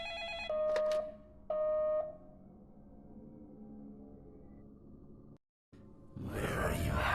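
Telephone in the video game Deadly Premonition rings in two loud, tonal electronic bursts, each about half a second long and a second apart, followed by quieter room ambience and a brief dropout.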